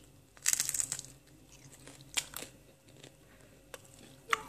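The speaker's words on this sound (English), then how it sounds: "That crunch is amazing." Crisp crunching and chewing of a crispy fruit cracker snack, a few sharp bites at irregular intervals over soft mouth noises, fairly quiet and close.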